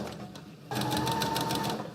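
A sewing machine stitches slowly around the curve of a suit lapel. A quiet pause gives way to a steady, close, rapid run of mechanical stitching that hums along for over a second.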